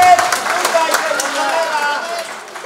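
A crowd at a Barbórka miners' memorial boxing tournament claps in a short, lively burst of applause that fades gradually, with a voice carrying over the top.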